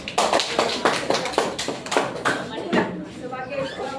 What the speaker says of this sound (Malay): Bagi satu tepukan.